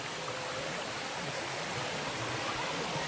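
Rushing water of Bua Tong sticky waterfall in Chiang Mai, Thailand, a steady broadband roar that stays constant and fairly close throughout, with no voices over it.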